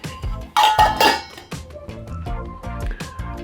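Small metal camping pot and cookware knocking and clinking together, a quick series of close, bright metallic clanks with a couple of louder ringing hits near the start.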